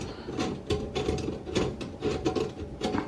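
Screws are spun out of a kitchen sink basket strainer with a rapid, continuous ratcheting and mechanical clicking. The sound is close and steady and runs the whole time without pause.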